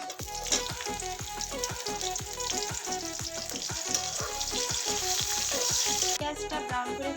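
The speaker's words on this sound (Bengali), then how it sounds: "আর গোটা জিরে দিয়ে দিচ্ছি রসুন আর তেল" Whole cumin, bay leaf and garlic fry in hot oil for a jackfruit curry, giving a steady close sizzle that runs throughout, with rhythmic music playing over it.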